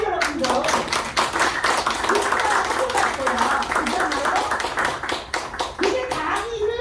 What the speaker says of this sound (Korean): 이럴 때 박수 치는 거예요